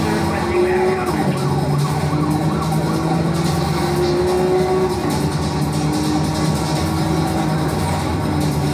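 Police sirens wail in a Need for Speed Rivals pursuit, rising and falling tones that run steadily over loud engine and road noise from a fast chase, with no pauses throughout.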